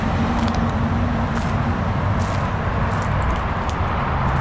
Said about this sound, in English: loud noise from the traffic